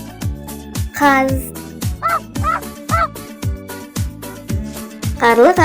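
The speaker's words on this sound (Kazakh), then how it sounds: "Қаз." A goose honks several times in loud, nasal calls spaced through the passage, with the last call drawn out, all over a steady rhythmic musical backing.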